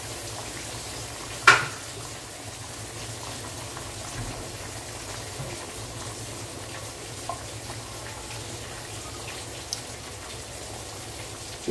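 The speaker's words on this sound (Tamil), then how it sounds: "குழம்பு இன்னும் ஒரு 5 நிமிஷம் கொதிக்கட்டும்." Fried field-bean gravy simmers in a pot, giving a steady, soft bubbling and sizzling texture throughout, with one sharp clink near the start and a few faint ticks later. No one speaks.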